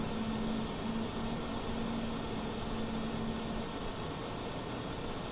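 Jet airliner engines idling steadily in Microsoft Flight Simulator before pushback on an Edinburgh to Schiphol flight, a constant broadband roar with a faint steady hum, no talk.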